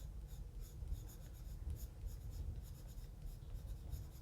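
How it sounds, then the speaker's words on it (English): A brown colored pencil shades an adult coloring page in steady, close, quiet scratchy strokes, with a continuous soft rasp and no talk. "this spot here we'll just color in with the brown"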